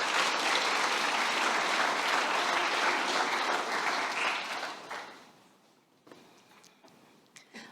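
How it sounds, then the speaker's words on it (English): Audience applause at the launch of a university Pacific and global health centre, loud and sustained broadband clapping that tapers off after about five seconds into a quieter room with scattered claps. "let's give Dr. Rowanne Nishu a big round of applause."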